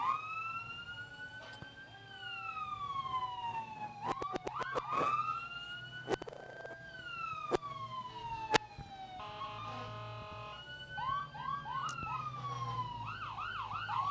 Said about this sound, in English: The fire department tends to make a lot more noise. That's where all those sirens are coming from.